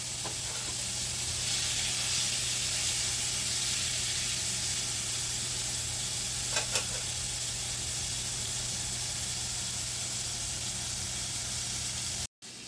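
Cube steak fries in a pan with a steady, even sizzle and hiss throughout, close and moderately quiet, with a couple of faint clicks midway and no voices.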